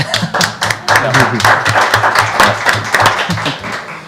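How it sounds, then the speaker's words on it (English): Audience applause at a town council meeting, dense clapping from a room of people that carries on steadily, with voices talking over it. "Do we applaud now?"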